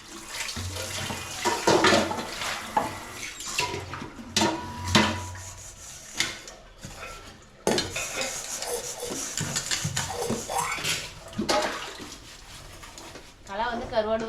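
Running water splashes and clatters as dishes are scrubbed and rinsed in a sink, with someone talking over the washing.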